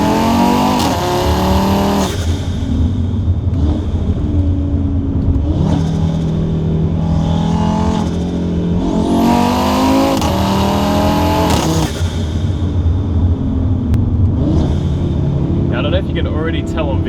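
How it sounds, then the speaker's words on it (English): A car engine and exhaust rev through repeated rising and falling sweeps, recorded loud and close with a microphone aimed at the exhaust. Someone talks between the revs. "in those lower RPM ranges, the car's definitely a heap louder"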